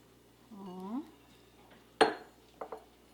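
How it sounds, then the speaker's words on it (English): Raw beef plops into a bowl with a wet, soft clatter, followed by a couple of lighter clinks of a utensil against the dish, close and clear, after a brief voiced sound. "First, I'm gonna put the beef in this bowl."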